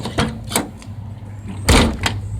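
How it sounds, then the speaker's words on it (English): The door of a 1984 Chevy Monte Carlo with a faulty hinge clunks and knocks as it fails to shut, giving a few short, hard thuds close by over a low background hum. "I can't even get the doors shut because of a faulty hinge, obviously."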